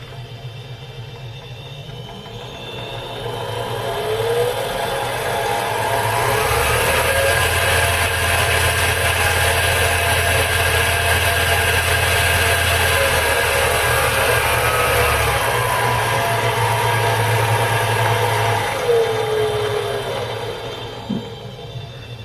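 A Harbor Freight 7x10 mini lathe is switched on, its gears turning as the motor whirs up to a steady hum, holds for some seconds, then winds down, loud and close with no speech.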